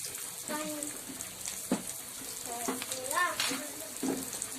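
A whole chicken deep-frying in a pot of oil gives off a steady bubbling sizzle, close and continuous, with a few clinks and a voice speaking over it now and then.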